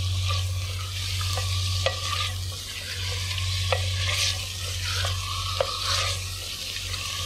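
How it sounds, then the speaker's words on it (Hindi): Chicken frying in spice masala inside a handi pot, with a steady loud sizzle and repeated scraping stirs of a spoon against the pot, no talking. "अब मैं इसके अंदर चिकन डालने लगी हूँ, बस मैंने 1 मिनट इस मसाले को फ्राई किया है"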